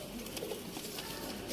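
Sialkoti silver pigeons cooing softly in a loft, a brief low murmuring coo set against steady background hiss.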